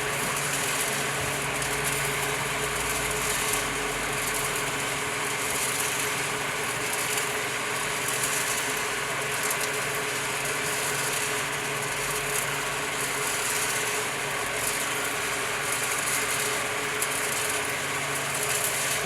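The motor of a planetary coffee bean roaster drives a steady, even mechanical drone with a faint rattle of tumbling beans, unchanging and continuous for the whole stretch.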